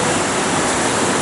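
McCarthy Creek in McCarthy, Alaska, swollen with recent rain, rushes in a steady, loud broadband roar of fast-running water that fills the whole moment with no voices over it.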